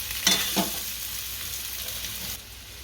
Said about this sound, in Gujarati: હવે આપણા બટેકા નાખશું અને હલાવી નાખશું હાલી રીતના